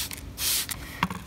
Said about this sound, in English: I'm going to spray some on here.